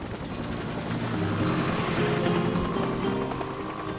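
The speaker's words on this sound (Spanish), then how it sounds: "Y luego, de pronto, el helicóptero giró y se fue." A helicopter flies overhead above the Kalahari in Botswana, its rotor chop and engine roar swelling slightly toward the middle before holding steady, fairly loud with no voices.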